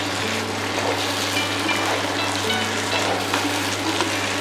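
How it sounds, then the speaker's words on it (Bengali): Fried lentil dumplings are stirred into a bottle gourd shukto, giving a loud, steady frying sizzle with soft stirring over a low hum, and no talking. "বড়িগুলো ভালোভাবে মিশিয়ে নিচ্ছি।"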